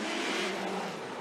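A Toyota Corolla hatchback drift car at a Formula Drift event screams along in a loud, sustained engine rev with tyre noise, heard close and alone for a short moment.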